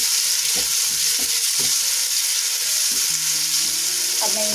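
Tomatoes frying in a pan with salt, black pepper and green chillies for a Navratri fasting dish, a loud, constant close-up sizzle punctuated by knocks of stirring.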